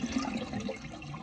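A toilet flushes to drain its tank during a fill valve replacement, a brief close gurgling rush of water that holds steady for the whole moment.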